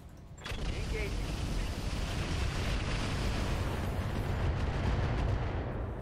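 Artillery bombardment in RogueTech, a dense, continuous roar of overlapping distant explosions that swells after an initial thump and rumbles steadily for several seconds, voices speaking under it.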